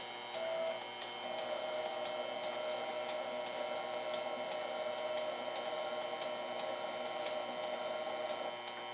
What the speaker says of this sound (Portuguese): Então eu vou ligar aqui o torno, só para exemplificar.